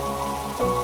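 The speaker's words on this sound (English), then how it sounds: "The rain outside continues, unbothered, patient." Rain falling outside a window in a quiet town, a soft steady hiss of drops pattering on surfaces, continuous and gentle with no voices.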